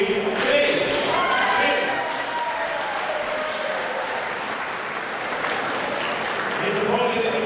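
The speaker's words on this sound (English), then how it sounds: "Let's have a big hand of applause." Crowd applause at an amateur boxing match as a fighter is introduced in the right corner, a broad continuous wash of clapping and cheering in a big hall, fairly loud, with an announcer's voice mixed in.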